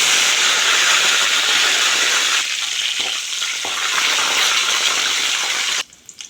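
Garlic and curry leaves hit hot oil with mustard seeds and urad dal in a pan, giving a loud, close, continuous sizzle and hiss that eases midway and cuts off abruptly near the end.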